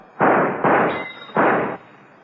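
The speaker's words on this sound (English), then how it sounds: "Bullets thudded into the wall and into the floor around Sid" Bullets striking a wall and floor in an audio drama shootout: three hard, loud bursts, the first two close together and the third after a short gap, each with a brief rough tail and no voices.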